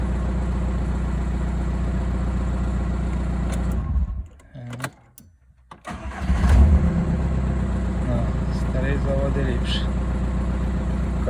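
A VW Caddy 1.9 TDI diesel with the original part refitted is cranked over. The engine hums steadily, drops into a brief gap, then catches and settles into a loud, close idle.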